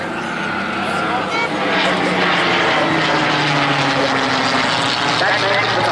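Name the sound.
Hawker Hurricane propeller aircraft flying at airshow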